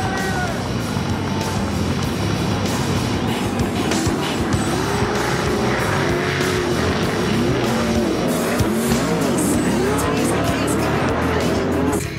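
World of Outlaws NOS Energy Drink sprint cars roar around a dirt track, a loud continuous engine drone with rising and falling pitch sweeps as cars pass, steady throughout under a commentator's voice.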